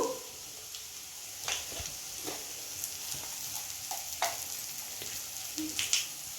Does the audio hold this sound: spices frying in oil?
yes